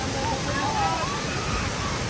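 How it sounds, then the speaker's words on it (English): Tinuy-an Waterfall in Mindanao, a huge cascade, roars as a loud, steady broadband rush close by, with no break across the whole stretch. "I'm not sure because the water is absolutely roaring here."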